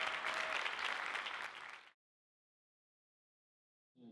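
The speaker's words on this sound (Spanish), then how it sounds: "Un aplauso." An audience applauds on the final day of a festival in Vitoria-Gasteiz, with dense, steady clapping that tapers off and stops after about two seconds, followed by silence.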